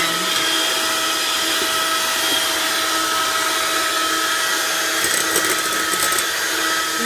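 An electric mixer whirs steadily while whipping egg whites for homemade eggnog, a continuous mid-level motor drone with a slight rattle near the end.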